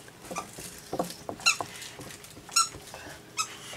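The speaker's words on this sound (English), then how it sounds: "If you can hear a squeaky toy, that is my puppy Casper." A puppy playing with a squeaky toy: several sharp, high squeaks come in short bursts amid soft pattering and shuffling, close by and fairly loud, with no talking.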